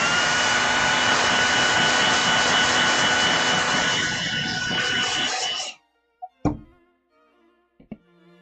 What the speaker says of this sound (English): I'm going to bring up my hairdryer right quick.